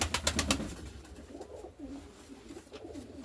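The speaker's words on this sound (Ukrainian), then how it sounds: "Это направление у меня желтая голубка и краснорябый голубь." Domestic pigeons, a yellow hen and a red-speckled cock, coo softly in low rolling phrases at close range after a few brief clattering taps, with no talk.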